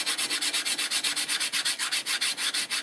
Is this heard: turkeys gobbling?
no